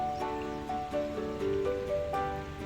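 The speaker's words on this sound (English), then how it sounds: "It's chucking it down today." Heavy rain falling during a narrowboat canal cruise, a steady hissing patter with some deeper tonal noise underneath, close and continuous, with no talk.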